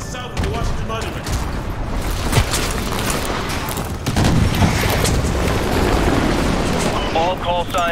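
Gunfire and booming blasts in a Call of Duty Modern Warfare 2 Remastered battle near the Washington Monument roll on steadily and loudly, with radio-style voices talking over the combat.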